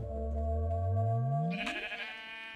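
A Minecraft sheep bleats in a single drawn-out, rising cry that swells loudly and then trails off, heard up close with no talking.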